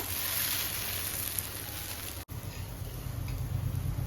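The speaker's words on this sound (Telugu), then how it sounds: "సో నెక్స్ట్ దోశ కూడా వేసేస్తున్నా" Dosa batter hits a hot pan and sizzles steadily, a loud, dense hiss that fills the whole stretch with only a momentary dip partway through.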